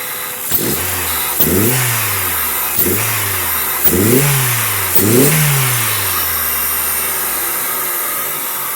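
A 2002 Dodge Neon engine with a cold air intake idles with a steady hum, revving up and down five times in a regular rhythm before settling back to idle.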